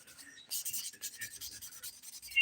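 A 100-grit sponge buffer rubs across a fingernail in soft, quick, repeated scratchy strokes, close and faint, with no talking.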